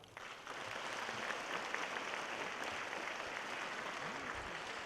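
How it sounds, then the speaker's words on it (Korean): An audience claps steadily at a resident briefing and project presentation for Gochang County's designation as a cultural city, a dense, even round of applause that fills the room and holds for about five seconds. "다시 한번 박수 보내주시면 감사하겠습니다"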